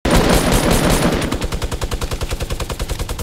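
Rapid automatic gunfire in Fortnite rattles out as a dense, loud burst that settles into an even, fast string of shots, with no talk over it.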